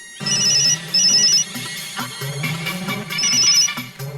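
A phone rings with a steady electronic ringtone melody, loud and close, repeating in bursts with no voices over it.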